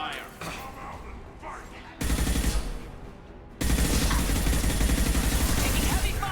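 Heavy gunfire in the sci-fi shooter Mass Effect, loud sustained bursts of rapid shots that start abruptly, pause briefly, then return even denser and closer.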